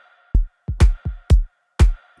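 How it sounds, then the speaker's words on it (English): A layered organic house snare built from two Foley layers and a real snare, hitting about six times with sharp bright cracks over low thumps, a faint sustained tone lingering underneath. "The snare will consist of 2 organic Foley layers and 1 real snare."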